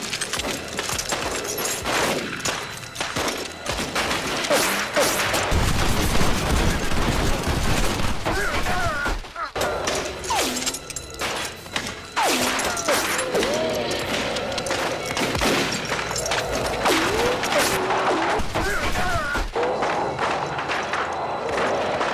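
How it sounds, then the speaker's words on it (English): A rapid volley of gunfire erupts in a chaotic action scene from the film Tammy and the T-Rex, with dense overlapping shots and bursts that stay loud and continuous for about twenty seconds amid commotion. "Open fire!"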